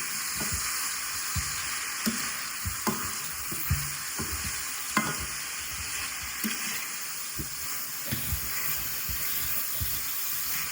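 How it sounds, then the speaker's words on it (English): Shrimp and grits with lemon juice sizzle in a hot pan while a spoon stirs, scraping and clicking at irregular intervals over the constant frying hiss, heard up close. "We just want to give that a good stir."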